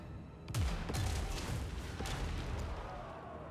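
A rapid, ragged volley of gunfire crackles through a battle in Total War: Warhammer 2, several sharp shots early then a scattered rumble of firing, moderately loud with no voices.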